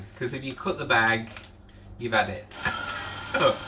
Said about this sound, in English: Now that is the alarm going off to say that our bag that's in the oven